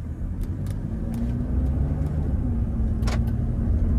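A Toyota Innova Crysta car drives along with a steady low engine rumble and road noise, rising slightly in level, with a few faint ticks and clicks heard inside the cabin.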